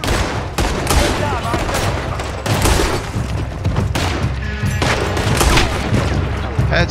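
Heavy gunfire in Red Dead Redemption II during a saloon shootout, loud overlapping shots and booms in dense bursts with brief gaps, while a voice speaks underneath.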